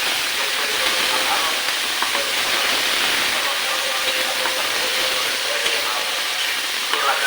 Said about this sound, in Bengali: পেঁয়াজ বাটা দিয়ে দেবো আমি।